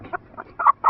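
A pasture-raised hen clucks as it is picked up, giving four short, close, loud clucks within a second, the last two strongest, with no talking.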